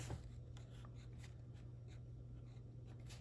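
A pencil scratches across paper in a few short, soft strokes as numbers are written down, faint and close over a steady low electrical hum.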